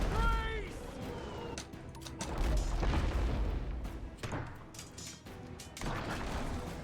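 Ship cannons fire in the naval combat game Abandon Ship, a series of booming shots and crashing impacts spread across several seconds, fairly loud and dense with overlapping blasts.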